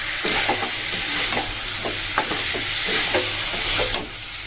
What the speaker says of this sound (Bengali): এবার হচ্ছে আলু দিয়ে কষিয়ে নিচ্ছি